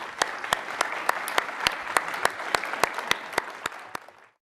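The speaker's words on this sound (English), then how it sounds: "can we give a big round of applause for the cluster co-chairs?" An audience at the 2014 Innovation Summit in Juneau, Alaska applauds the cluster co-chairs, with steady, fairly sparse clapping and distinct individual claps that fade out after about four seconds.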